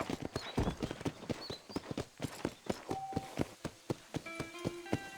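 Horse hooves clip-clop in the Red Dead Redemption video game, a steady, close walking rhythm of sharp hoof strikes, with brief bird chirps early on and a soft tonal chime near the end.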